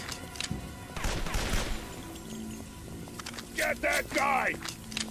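Dual pistols fire in a video game, producing short bursts of rapid shots that trail off. Several quieter tonal game effects follow, and someone talks faintly between them.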